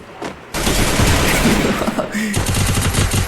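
Rapid bursts of gunfire in the Free Fire video game, loud and dense, following a brief quiet moment, with rattling automatic shots continuing to the end.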